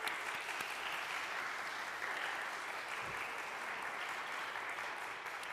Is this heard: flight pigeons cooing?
no